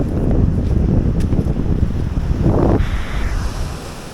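Sea waves rolling onto a beach at Botolan, Zambales, a loud, steady surf roar with heavy wind buffeting the microphone and no voices.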